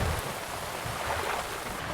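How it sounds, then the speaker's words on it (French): Steady rain pours down as a strong thunderstorm rolls in over a Florida setting, with low rumbling thunder swelling underneath the constant hiss of water. "Il y a un méchant orage qui arrive."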